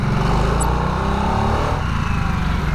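A 2022 Harley-Davidson Nightster engine runs under load, a loud, close, steady throbbing with a thin, tinny exhaust note and the pitch shifting slightly as the revs rise and settle.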